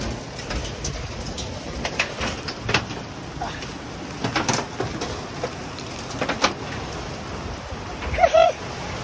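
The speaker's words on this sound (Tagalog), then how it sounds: "Ang lakas ng ulan" Heavy rain hisses steadily in the background while pigeons coo and flutter nearby, with a few brief voice sounds.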